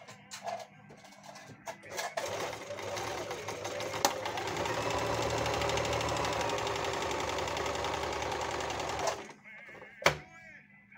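A Panavox 8160 sewing machine stitches in one steady, rapid mechanical whir lasting several seconds. It starts and stops with faint clicks, and people talk quietly around it.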